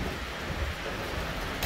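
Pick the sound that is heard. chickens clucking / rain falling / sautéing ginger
rain falling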